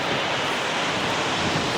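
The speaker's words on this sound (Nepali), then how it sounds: "यो झरना यसरी बगिरहेको छ" A waterfall at a high point in the Karnali region of Nepal pours as a dense, continuous roar of rushing water, loud and close, with no voices over it.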